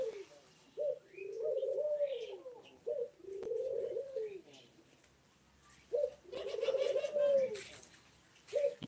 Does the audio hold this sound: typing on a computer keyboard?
no